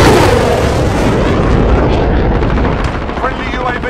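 A grenade blast in Call of Duty Modern Warfare booms heavily and close, a dense rumbling explosion that fills the moment and slowly trails off.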